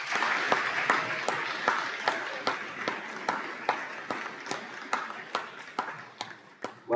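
Applause rings out at a high school awards evening for prize-winning middle school students; sharp, fairly evenly spaced claps repeat in a steady rhythm, sounding like a modest number of people clapping rather than a full roar.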